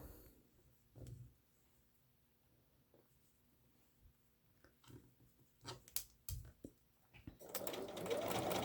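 Sewing machine stitching quilt block pieces, with short quiet bursts of running stitches and clicks separated by pauses, ending in a louder continuous whir.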